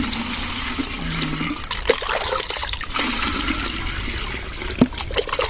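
Water trickles and splashes steadily while crops are watered on a farm, a continuous near wash with a few brief knocks and splatters, no talk.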